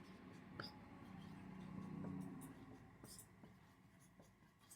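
Faint chalk or marker strokes on a board in a class 10 chemistry lesson, a few short scratchy taps and drags spaced irregularly in a quiet room, with soft background murmur.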